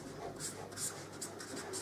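Marker or chalk scratching numbers onto a board in short, close strokes, a few quick bursts of writing with brief pauses between them and no talking.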